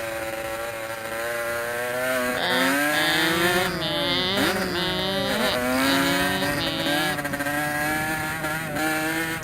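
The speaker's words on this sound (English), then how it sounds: "Did you hear that double clutch? Accidental double clutch." A dirt bike on a muddy trail ride revs loudly and continuously, its engine pitch rising and falling in shifting sweeps with a momentary stumble like an accidental double clutch, close and steady throughout.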